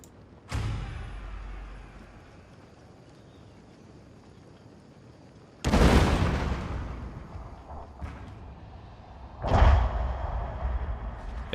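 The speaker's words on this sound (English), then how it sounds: "nice counter artillery here" Artillery fire in the Total War: Fall of the Samurai video game: three heavy, booming cannon blasts spread several seconds apart, each decaying into a rumbling battlefield din, with no talking.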